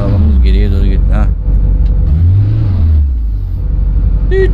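A minibus in Tourist Bus Simulator rumbles loudly as it creeps in reverse, its engine note rising and falling under someone talking throughout.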